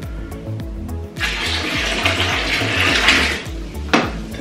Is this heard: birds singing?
no